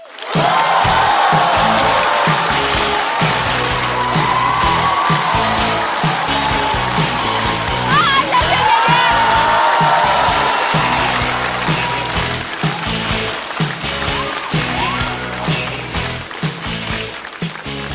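Loud, dense applause and cheering from a live audience greets a female comedian walking onstage at a Chinese stand-up comedy show, sustained throughout and tapering slightly toward the end.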